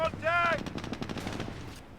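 Jeep machine-gun fire in the World War II strategy game Company of Heroes, rapid bursts of rattling shots under a brief tonal effect and a voice speaking.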